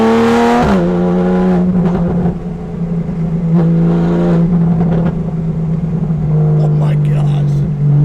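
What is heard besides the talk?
straight piped Porsche 911 3.8L engine revving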